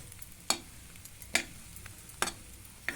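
Bread pieces frying in a pan over a low gas flame, with soft, quiet sizzling broken by three or four sharp scraping stirs at regular intervals, close up and with no voices.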